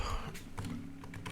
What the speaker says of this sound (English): Let me type it so